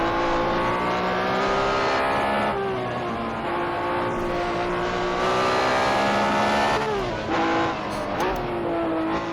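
Several Porsche race car engines roar together on the Targa Florio road course in a racing game, loud and sustained with layered pitches and shifts, a faint voice underneath.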